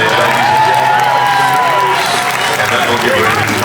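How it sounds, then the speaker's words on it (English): A crowd of spectators at an Easter Show sports event cheers and whoops steadily, a loud, lively roar mixed with shouting voices. "Give her a big cheer down there, ladies."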